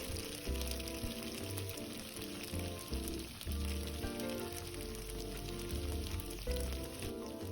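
Glutinous rice with cured meats, shiitake mushrooms and peanuts stir-fried in a wok: a steady crackling sizzle with intermittent tossing and scraping, close and moderately quiet, under soft background music.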